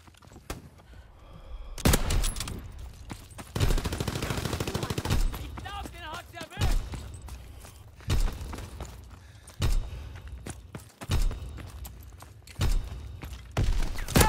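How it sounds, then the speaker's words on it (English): Enemy artillery pounds a battlefield in a WWII video game. Loud blasts and gunfire bursts repeat every second or two at close range, with faint voices underneath. "Incoming enemy artillery! Get to cover!"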